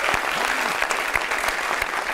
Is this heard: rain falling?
no